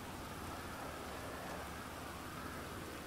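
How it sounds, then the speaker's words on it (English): Steady rainfall in the video game GTA 5, a dense even hiss that holds constant throughout with no voices. "It's raining."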